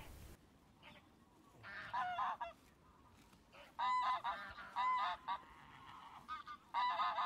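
Greylag geese honk in repeated bursts, loud and close, several calls overlapping against a quiet outdoor background.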